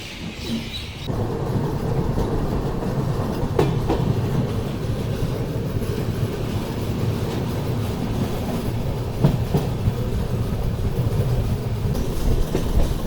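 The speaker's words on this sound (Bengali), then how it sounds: "রানীগঞ্জ রেলওয়ে স্টেশন থেকে ছেড়ে দিল আমাদের ট্রেন" The 12342 Agnibina Express pulling out of Raniganj station, a steady loud rumble of rolling wagons with faint clacking over the rails throughout, heard from on board with no talking.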